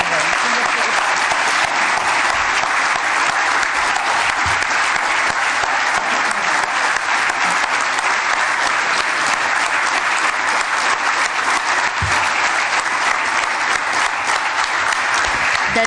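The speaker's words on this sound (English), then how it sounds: "Can I request all for a standing ovation to the artists?" Sustained standing ovation for the artists at a cultural evening in an auditorium, dense steady applause from a large audience continuing at an even loudness throughout.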